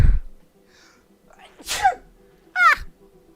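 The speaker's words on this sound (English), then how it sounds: "Sneezing!" Two sharp human sneezes a second apart, each with a short breathy intake before the burst, set against a quiet background.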